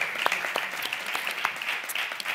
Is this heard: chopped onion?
no